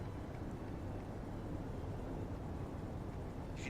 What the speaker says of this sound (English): You can hear just the wind on the mountains and whatnot.